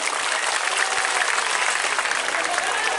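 An audience at an Islamic sermon claps in steady, dense applause, loud and continuous throughout, with crowd noise underneath.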